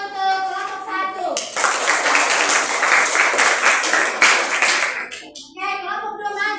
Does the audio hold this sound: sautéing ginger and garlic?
no